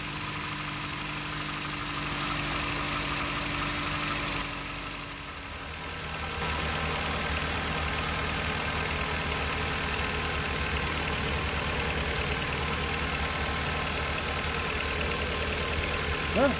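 Dodge engine idling after a cooling system repair, with a steady mid-pitched hum and faint knocking throughout, close and unbroken, dipping briefly midway.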